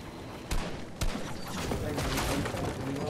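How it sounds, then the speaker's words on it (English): Sniper gunfire in Fortnite: two sharp, loud cracks about half a second apart, then a denser wash of game noise and distant shots. "I'm getting sniped at by a gun."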